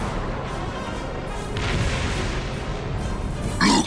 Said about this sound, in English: Where's that artillery coming from?